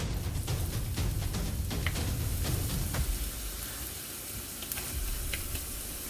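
Half an onion hits hot oil in a non-stick pan, a loud close sizzle that settles into steady crackling frying, with a few stirring clicks, while scrambled eggs are being made.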